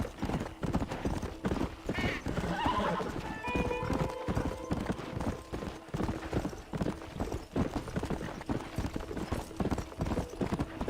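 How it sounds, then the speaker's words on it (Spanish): Horse hooves clip-clopping at a steady rhythm with a neigh in the Red Dead Redemption video game, close and moderately loud, with a voice talking briefly over the hoofbeats. "Esto es un caballo de verdad."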